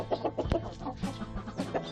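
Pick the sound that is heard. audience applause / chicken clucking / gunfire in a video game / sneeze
chicken clucking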